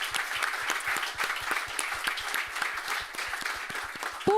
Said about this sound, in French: j'aimerais qu'on applaudisse tout le monde ici,